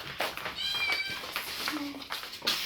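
Newborn kittens meow in a home as their mother cat stays nearby, giving several thin, high-pitched cries in quick succession at close range, with a voice briefly murmuring in the background.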